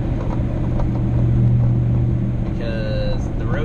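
Mall crawler car rolling over a rough, grooved road with wide tires, a loud continuous low rumble of engine and road noise from inside the cabin, with a voice talking over it.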